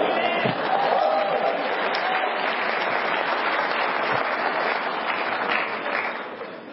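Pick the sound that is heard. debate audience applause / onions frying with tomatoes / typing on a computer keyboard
debate audience applause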